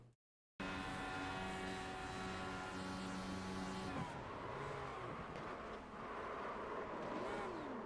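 An Indy race car at full speed, heard from onboard, screams out of silence with a loud high-pitched engine whine, its pitch shifting as it slides and spins, no talking.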